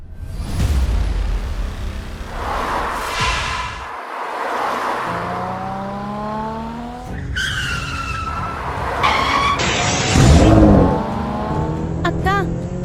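A cartoon car speeds along and skids, with revving engine whines, sliding tire squeals and a loud screech near the end, while animated voices talk over parts of it.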